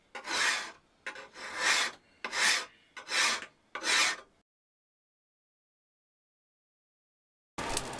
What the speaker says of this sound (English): I used some draw filing to help define the contours and ensure the nice sharp line between the beveled